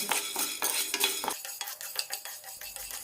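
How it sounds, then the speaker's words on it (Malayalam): Chana dal and urad dal roast in a pan as a spoon stirs and scrapes, making close, quick metallic clinks and rustling scratches in an uneven rhythm. "ചേരുവകളെല്ലാം നന്നായി റോസ്റ്റ് ചെയ്തെടുക്കാം"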